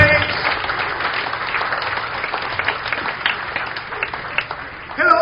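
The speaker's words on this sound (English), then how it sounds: "Come on, give Him the best clap of praise." A church congregation claps in praise during a worship service: a broad wash of many hands clapping fills the clip, with a murmur of voices mixed in and a louder burst near the end.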